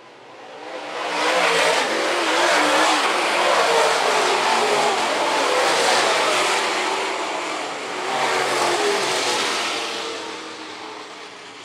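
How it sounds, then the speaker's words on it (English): Late model race cars roar around the Phillips County Raceway oval, a loud, sustained engine drone that swells and eases as the pack passes, with no talk over it. "Tyler Smith, the only car in the field, starting to pass some cars"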